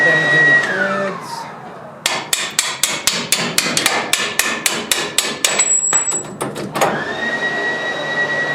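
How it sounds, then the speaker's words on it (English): Taper punch struck repeatedly by a hammer to drive a bolt out during front strut replacement on a 4WD 4Runner, about fourteen sharp, evenly spaced metallic blows, close and loud. "We're going to punch the bolt out without damaging the threads."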